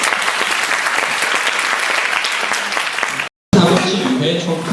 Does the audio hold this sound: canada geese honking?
no